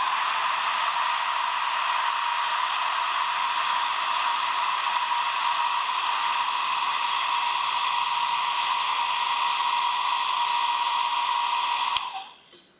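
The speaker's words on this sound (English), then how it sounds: "And now the hairdryer." A hair dryer blows on a freshly painted miniature, a steady, close, high-pitched whirring drone held for about twelve seconds before it is switched off and winds down.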